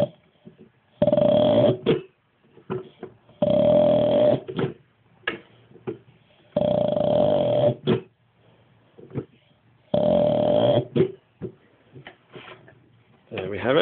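A vacuum pump runs in repeated bursts, four loud, steady humming stretches of about a second each, separated by quieter gaps with clicks and shuffling, close to the listener.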